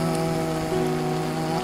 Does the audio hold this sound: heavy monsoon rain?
yes